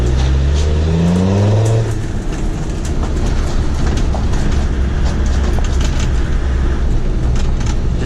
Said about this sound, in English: Just hear the sound of all that mud flying up into the wheel arches